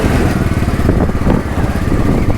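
A Royal Enfield Bullet 500 motorcycle rides along an autumn country road in Ireland, its engine giving a steady, loud, continuous thump close by with no talking.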